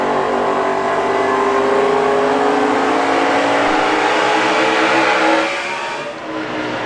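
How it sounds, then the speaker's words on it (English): NASCAR race cars at the 2011 Lenox Industrial Tools 301 roar around the track. Several engines blend into a loud, sustained, rising howl up close, easing off slightly near the end. "these cars really slide up the racetrack right at this point right here"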